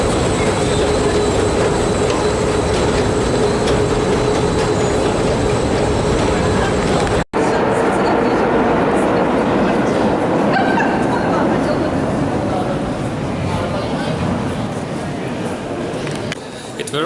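A Saint Petersburg subway train runs steadily with a loud, continuous rumble of wheels and carriage noise throughout, one brief sharp click near the middle, and the din easing slightly toward the end.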